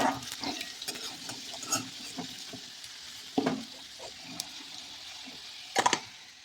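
Potato pieces frying in hot oil for a Mayapur-style baby corn dish give a steady crackling sizzle, with stirring scrapes and a few louder clatters near the start, middle and end.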